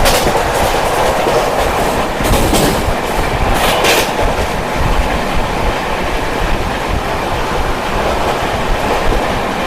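Goa Express train running on rails near Pachora Junction, a steady loud rumble with rhythmic clickety-clack of wheels, brief brighter clatter bursts early on, continuous throughout with no talk.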